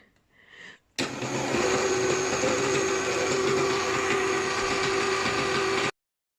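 Electric mixer running at slow speed as flour is added to cake batter, a steady loud whir with a constant tone that starts abruptly and stops cleanly about five seconds later, with no talking.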